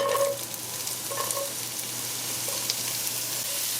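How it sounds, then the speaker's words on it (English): Chopped onion dropped into hot avocado oil in a pot sizzles steadily throughout, a dense broadband crackle with a few brief utensil clinks early on, close and moderately loud with no talking. "To the oil, I'm adding some chopped onion."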